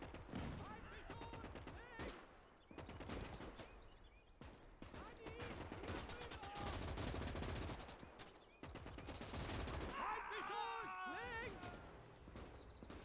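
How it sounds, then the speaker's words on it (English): MG42 machine gun fire in the Gates of Hell World War II strategy game, with rapid bursts and scattered gunshots throughout a battle, heard under ongoing commentary talk. "this MG42 is trying to hold them off here"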